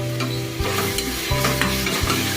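Ground cinnamon-clove spice powder and chili powder fry in oil for tomato bath, a steady close sizzle with stirring scrapes and light clatter running throughout.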